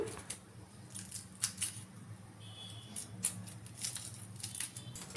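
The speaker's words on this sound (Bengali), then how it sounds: "এইবার আমি পেঁয়াজ ছুলে নিচ্ছি।" Two small onions are peeled by hand in a kitchen. Sparse, quiet papery clicks and crackles come close to the microphone, with short pauses between them and no speech.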